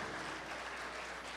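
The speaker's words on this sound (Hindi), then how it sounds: "जोरदार तालियां बजा दीजिए तैसी भाई के लिए।" A poetry mushaira audience claps in a brief, dense burst. The applause is steady and somewhat faint, with a low hum underneath.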